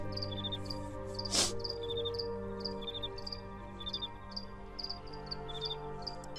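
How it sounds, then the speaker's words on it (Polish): Crickets chirp in steady repeating pulses throughout the video game Temple of Elemental Evil, a constant insect trill over a low ambient hum, with a brief louder burst partway through. "Denerwujące świerszcze."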